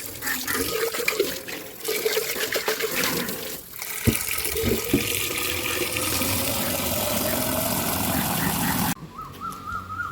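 Water runs steadily from a tap for several seconds, a continuous rushing flow close by with some clatter early on, then stops abruptly near the end.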